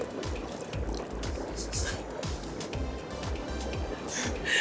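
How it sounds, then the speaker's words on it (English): Dry ice, solid carbon dioxide, bubbling in water: a soft continuous fizz and gurgle with repeated low popping bursts at an irregular rhythm, fairly quiet and close, with brief voice sounds over it. "So when I add it to my water here, it's going to smoke"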